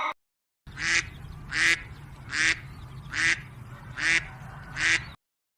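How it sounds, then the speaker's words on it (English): A duck quacks six times in an even, steady rhythm, each quack short, loud and close, with no other sound in between. "D for duck"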